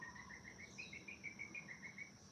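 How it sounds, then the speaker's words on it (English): A coqui frog calls in a repeated series of bright, evenly spaced chirps, carried along over a steady insect-like hum of night ambience, moderately close and clear. "It's actually not a bird. That's a frog. I know it sounds insane. It's a coqui frog."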